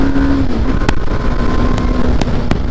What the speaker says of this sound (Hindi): भाई ये देखो BMW की M Sport जा रही भाई